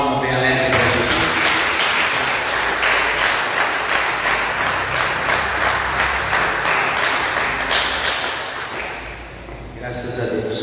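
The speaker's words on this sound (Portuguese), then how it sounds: "quem pode dar uma salva de palmas bem alegre para Jesus?" A church congregation claps together in a sustained, dense round of applause that fills the room for several seconds before tapering off, with a voice talking over it.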